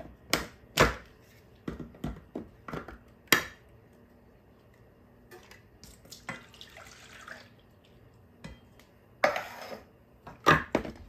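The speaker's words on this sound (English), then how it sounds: "I'm going to shake these 3 cans of evaporated milk, and we'll get them opened and put into our" Three cans of evaporated milk being opened and poured into a bowl for a Southern-style macaroni and cheese: sharp metallic clicks and taps come in bursts, separated by soft pours and splashes of liquid, close up with no talking.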